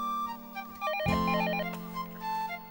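An electronic phone ringtone plays a repeating, bright melodic pattern over a steady tone, fairly clear and close, with no voices.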